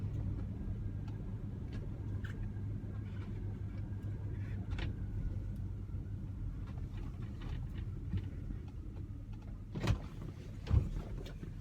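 A 1971 Oldsmobile Cutlass S cruises along with a low, steady engine rumble heard from inside the cabin, joined by faint rattles and a couple of brief knocks near the end.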